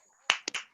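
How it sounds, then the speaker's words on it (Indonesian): A few sharp claps close by during a group presentation, three quick bursts spaced unevenly, after a brief quiet stretch with faint background noise. "tepuk tangan dulu"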